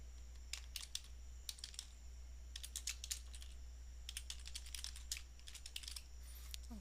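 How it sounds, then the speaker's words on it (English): Fingers tap out an assignment title on a computer keyboard, quick irregular bursts of crisp keystrokes over a steady low electrical hum, with no talking. "You type your title."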